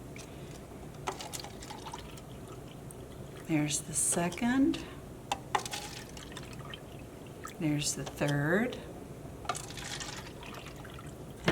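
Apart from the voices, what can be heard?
warm water poured into plastic cups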